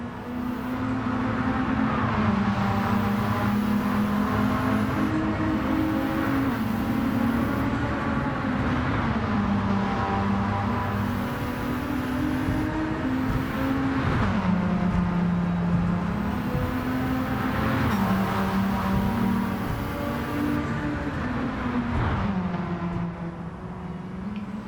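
An Amuse Honda S2000 with a swapped engine drives through corners in Gran Turismo 7, its engine note droning steadily and rising and falling with throttle and gear changes, loud and continuous.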